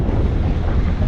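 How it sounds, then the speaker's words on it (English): Wind buffets a small dive boat out on the open sea, a steady low roar of gusts with the wash of waves beneath, continuous and close with no voices. "We knew it was gonna be windy"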